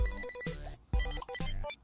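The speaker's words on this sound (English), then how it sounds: "Can you please turn that phone down?" A phone at a pizza place rings out with a loud, repeating electronic tone, sounding in short, bright bursts separated by brief gaps.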